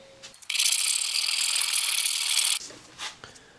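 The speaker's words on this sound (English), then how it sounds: "So right now I'm going to start with the filing." A metal file rasps steadily across the frets of an inexpensive secondhand guitar in one continuous stroke of about two seconds, close and fairly loud, with small handling knocks before and after.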